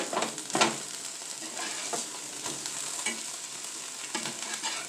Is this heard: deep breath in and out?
no